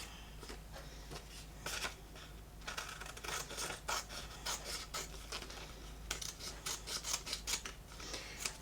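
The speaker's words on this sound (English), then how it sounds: "Just going to tidy that up with the scissors." Scissors snip and trim a decorative paper page border for a junk journal, a run of close, crisp cuts and rustling paper strokes coming in uneven bursts with no talking.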